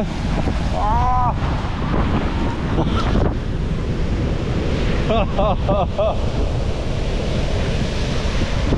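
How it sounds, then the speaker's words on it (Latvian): Heavy sea waves surge and crash on a beach in Montenegro near Budva, with constant roar and wind buffeting the microphone; brief voices surface faintly over the surf. "Ārprāts, kādi viļņi."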